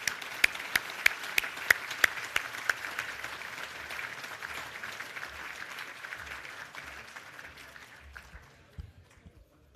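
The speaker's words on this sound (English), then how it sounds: "So please join me in a round of applause for our two guests." Audience at an oration dinner applauds for several seconds, a dense wash of clapping with a few sharp louder claps early, fading out toward the end.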